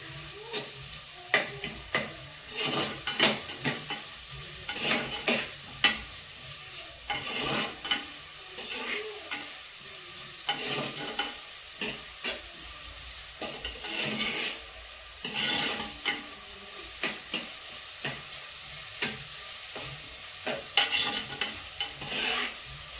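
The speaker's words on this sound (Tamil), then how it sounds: "வெங்காயம் வந்து நல்லா வதங்கிடும் ஃபுல்லாக." Onions sauté in a pan with fenugreek or cumin seeds, a constant sizzle running under frequent stirring scrapes and spoon knocks against the pan, close and fairly loud for the whole stretch.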